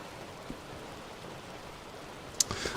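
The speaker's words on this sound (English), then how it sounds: "It's raining. It's been raining for a while." Steady rain falls as a soft, even hiss that stays low and constant throughout, with one sharp, brief tap near the end.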